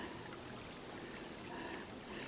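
Small mountain stream trickling in a pretty little valley along the Appalachian Trail on Pine Mountain, a very faint, steady babble of water with no voices.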